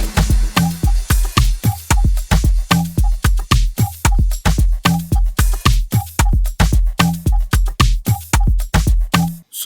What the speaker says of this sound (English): This is almost like a clap snare.